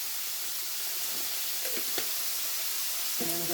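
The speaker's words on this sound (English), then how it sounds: "we're just going to continue to stir fry it until it's done and the chops are done" Onion and pork chops stir-fry in a hot pan with herbs, garlic and Greek seasoning, giving a steady, close sizzling hiss with a few faint clinks and scrapes from stirring.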